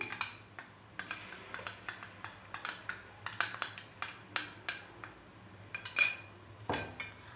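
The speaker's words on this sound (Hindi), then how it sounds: "अब इसके अंदर अदरक और लहसुन का पेस्ट ऐड कर देंगे" Ginger garlic paste being mixed into softened onions in a pan for chana dal, a quick run of rhythmic metal spoon scrapes and clinks against the pan over a faint background.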